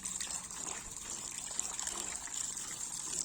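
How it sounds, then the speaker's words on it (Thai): Water running and splashing as soil is washed off freshly gathered produce outdoors, a steady close gushing trickle with no talking. "ล้างเอาดินออกก่อนนะครับ"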